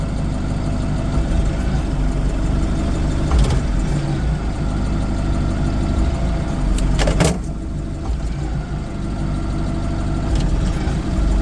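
A Toyota 6-ton diesel forklift idles with a steady, low, rumbling drone close by while its side-shift carriage rises, with a couple of brief clanks along the way.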